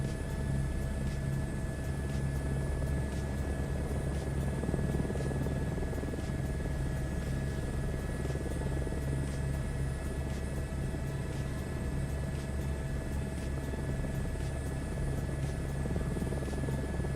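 Simulated helicopter lifting off in Microsoft Flight Simulator 2024, a steady loud rotor thump and turbine whine with rhythmic blade chop sustained throughout, no talking.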